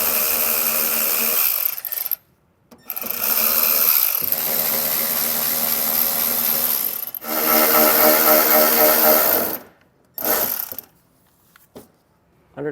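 Power tool or ratchet work pulling 7mm-head fasteners along an edge on a 2018 Chevrolet Colorado during a tow base plate install; loud sustained buzzing runs in several bursts with short silent gaps between them, no talk.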